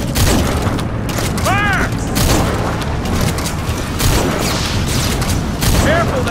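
Gunfire in Metal Gear Solid V: The Phantom Pain on PS4: repeated loud shots and booming impacts keep sounding under a dense game mix, with brief voices heard in between.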